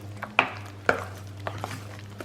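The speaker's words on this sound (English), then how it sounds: "you want to get that egg mixed all the way in, blend it all the way in with your spoon" A spoon stirring egg into a lasagna filling mixture in a bowl: a few faint, sharp clinks and soft scrapes spaced unevenly in a quiet room.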